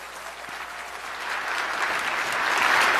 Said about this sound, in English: So give Josh Mitchell a big round of applause